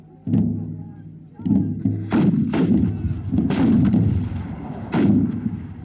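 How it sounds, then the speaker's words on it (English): Period-style guns and cannon fire in a staged battle scene for a television drama filmed in Castlebar. A series of loud, heavy booms, some overlapping, roll out over a few seconds. "Simultaneous volley! All guns! On my order! Fire!"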